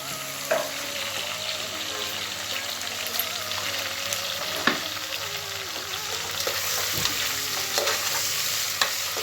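Onions and tomatoes sizzle steadily in a pan, with occasional clicks and scrapes of stirring over a constant frying hiss.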